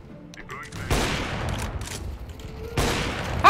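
Gunfire in a Counter-Strike: Global Offensive match cracks out in two loud bursts separated by quieter game sounds, with a player's voice heard briefly.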